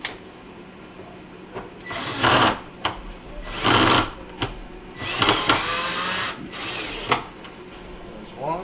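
Power screwdriver driving screws to reattach a Kenmore refrigerator evaporator cover, several short whirring bursts separated by pauses and small clicks, close by.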